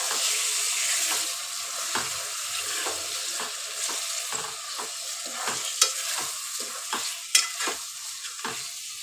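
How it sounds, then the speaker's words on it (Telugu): Chopped tomatoes frying and being stirred in a pan for egg curry, a steady sizzle with repeated scraping strokes of the spoon, close and fairly loud. "ఇది కూడా ఒకసారి మంచిగా మిక్స్ చేసుకుందాము."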